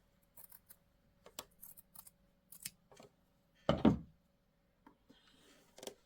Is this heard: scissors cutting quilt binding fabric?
yes